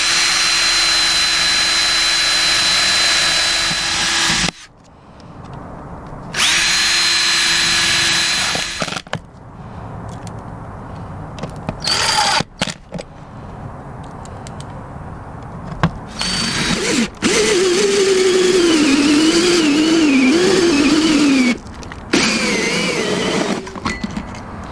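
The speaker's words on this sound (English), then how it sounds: "I'll be drilling a hole right through the center here and put 4 set screws." Power drill boring holes through metal plates aboard a catamaran: loud whining drill bursts start and stop repeatedly, with pitch rising and wavering under load, separated by short quieter gaps.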